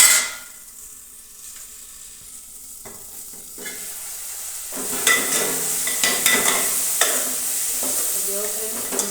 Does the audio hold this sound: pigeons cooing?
no